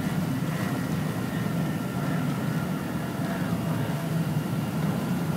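Twin outboard engines on a boat with a Teleflex Optimus 360 steering system maneuvering at low speed, a steady low rumbling drone with a voice talking over it.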